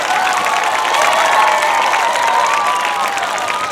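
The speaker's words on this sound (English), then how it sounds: "Let's give them a round of applause that they can hear all the way downtown." A large crowd of about a thousand students claps and cheers loudly and continuously, with shrill shouts and whoops riding over the dense applause.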